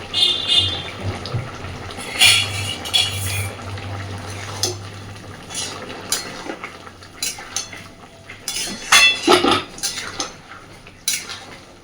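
Utensil stirring vegetarian cauliflower and potato curry (aloo dum) in a pan, with scattered clinks and scrapes of metal on the pan over a low steady hum, bursts of activity around the middle and end.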